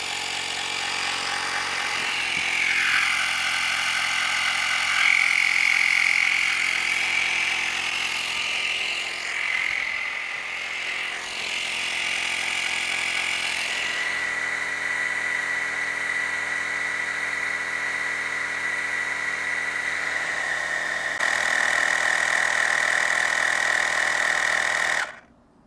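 A small air compressor pumps up to 30 psi, giving a steady, loud mechanical drone with a sustained whine that runs unbroken for nearly half a minute before cutting off abruptly.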